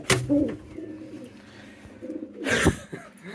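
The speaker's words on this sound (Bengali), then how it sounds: "এটা শার্টিং কবুতর" A pigeon coos nearby in a few low, throaty bursts, with some brief rustling and handling noises between calls.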